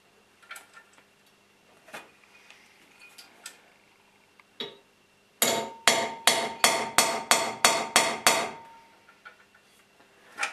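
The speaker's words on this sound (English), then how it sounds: "when you hammer repeatedly, that this sharpened spike, the awl" A quick run of about ten sharp metallic hammer blows driving a sharpened awl into a scooter deck held in a vise, in steady rhythm, loud and close, after a few scattered lighter taps.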